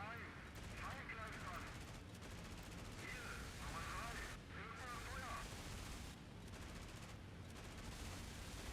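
Bursts of machine-gun fire from a gunner aboard a He 111 bomber in the flight game IL-2 Great Battles, sustained and loud, with steady engine drone beneath and talk over parts of it.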